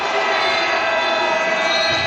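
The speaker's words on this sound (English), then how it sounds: "Joe Gomez de Leano exciting the crowd." A basketball arena crowd roars and cheers after a slam dunk at a regional league game, a loud, dense, sustained wall of voices with no letup.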